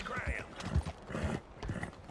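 Horse hooves clip-clopping in Red Dead Redemption II, a few low, evenly spaced thuds under a steady game soundscape, moderately loud and close.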